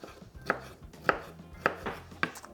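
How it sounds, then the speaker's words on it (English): A knife chops through a dill pickle on a board in four crisp, evenly spaced strokes, close and clear with no talk. "we're gonna put 1 dill pickle chopped up."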